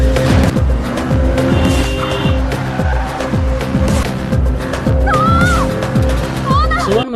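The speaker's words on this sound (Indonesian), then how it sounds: "Dengan tertatih-tatih dia menghampiri mobil dan mengendarainya." A car driven off hurriedly in a crime thriller, tires squealing as the engine revs over a rhythmic pulsing music score, loud and close.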